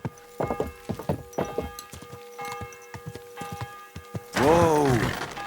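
Horse hooves clip-clop on the ground in Kingdom Come: Deliverance 2, an irregular run of close, crisp strikes over faint game ambience, ending in a horse's whinny.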